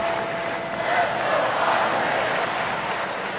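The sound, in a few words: restless baseball stadium crowd in a baseball video game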